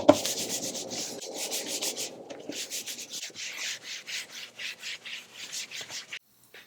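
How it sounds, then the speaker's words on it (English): A wet paper towel is wiped back and forth across a dusty surface near an air filtration system, giving a steady series of close, soft rubbing strokes in a regular rhythm, with no talking. "So I'm going to clean this off with a wet paper towel"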